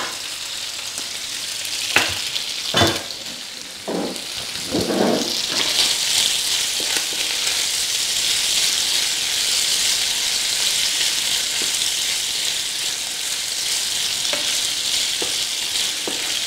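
Ingredients for a quiche Lorraine fry in a pan with a steady, loud sizzle, with a few stirring scrapes and knocks near the start and no talk.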